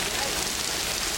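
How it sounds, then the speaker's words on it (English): Hail pelts down outdoors on a holiday in Montréal, a dense, steady hiss of icy pellets striking surfaces, loud and continuous across the short moment. "It's hail. It's hailing."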